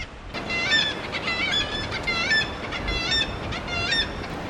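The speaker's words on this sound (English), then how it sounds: "And as usual, the seagulls seem happy to nest anywhere." Seagulls calling around a coastal harbour village, several repeated cries overlapping in fairly close, steady bursts above a constant background of wind and surf.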